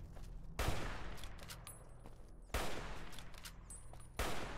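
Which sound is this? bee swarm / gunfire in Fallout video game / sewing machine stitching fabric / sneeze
gunfire in Fallout video game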